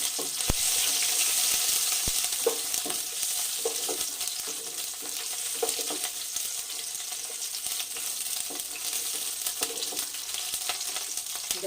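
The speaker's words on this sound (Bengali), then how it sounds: "কাঁচা লঙ্কাগুলো দিয়ে দিচ্ছি পাঁচফোড়নটাও দিয়ে দিচ্ছি নাড়াচাড়া করে নেবো" Green chillies and panch phoron frying in hot oil, a steady close sizzle broken by scraping stirs and occasional sharp clinks of the utensil against the pan.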